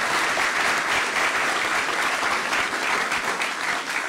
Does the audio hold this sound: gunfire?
no